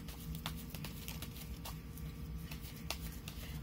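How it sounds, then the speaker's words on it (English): Tarot cards being shuffled by hand, a soft, fast patter of riffling and sliding cards at close range, continuous and fairly quiet throughout. "I'll shuffle the cards, I'll lay them down,"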